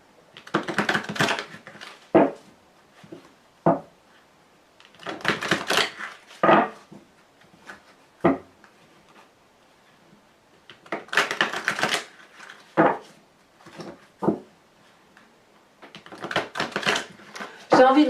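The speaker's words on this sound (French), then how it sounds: "mélanger les cartes" Tarot cards shuffled by hand, heard as repeated close bursts of riffling and flicking separated by short pauses, with sharp taps as the deck is squared.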